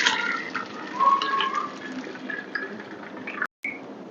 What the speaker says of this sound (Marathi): आणि डाळ अशी गाळून घेऊ